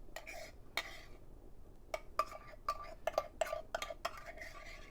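A spoon scrapes and taps against a metal pitcher while scooping milk foam for a cappuccino made with a Breville Barista Express, a sparse run of light clinks and scrapes, close and quiet.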